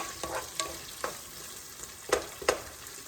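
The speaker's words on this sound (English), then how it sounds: "So just wait for the onions to caramelize a little bit more, like a little bit more brown." Onions caramelizing in canola oil in a pan, a soft steady sizzle broken by a few scattered scraping stir strokes, close by and moderately quiet with no voices.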